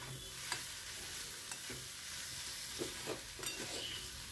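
Vegetable-scrap chorchori with chopped coriander is stirred in a pan, a faint continuous sizzle punctuated by several soft scraping strokes of the spoon, with no voices.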